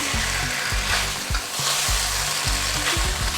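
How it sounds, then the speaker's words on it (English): Salmon pieces stir-fried over high heat in a hot pan, a constant close sizzle broken by repeated scraping and tossing strokes of a utensil, with no voices. "Turn the heat up and stir fry that around."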